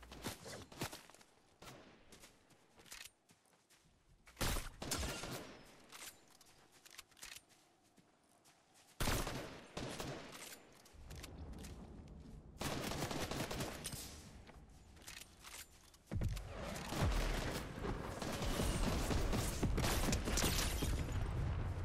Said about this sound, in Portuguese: Tiro pra lá.